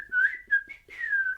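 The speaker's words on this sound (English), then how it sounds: "the birds whistling" Birds whistling among backyard trees: a handful of clear, sliding tonal calls, one long, then short ones, and a final drawn-out whistle, moderately near against a quiet background.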